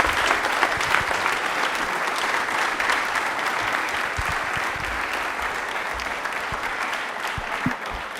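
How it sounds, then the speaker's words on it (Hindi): Studio audience at an Independence Day special quiz show gives a contestant sustained, loud applause, a dense and even clatter of many hands that continues for the whole stretch with no speech over it. "हाँ सब तालियां आपके लिए बजा रहे हैं, सब खुश हैं।"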